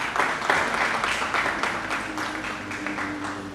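Applause at a carnival press conference, a moderate burst of clapping that gradually thins out over a few seconds, with low murmuring beneath.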